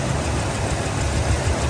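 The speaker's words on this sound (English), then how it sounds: "Nice, smooth running V8." A 1968 Buick GS 400 V8 engine idles steadily with a low, even rumble, close and loud, no revving or misfires.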